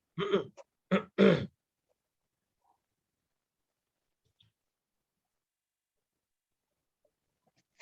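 Three short, harsh bursts of phlegmy throat clearing and coughing close by, from a person sitting in the sun, then near silence with only faint, scattered ticks.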